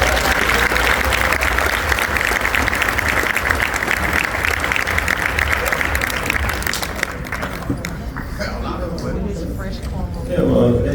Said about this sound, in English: By all means, everybody give a round of applause for Big Bone.